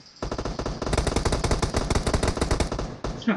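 Rapid automatic gunfire rattles in a steady, sustained burst for about three seconds, loud and close, then cuts off.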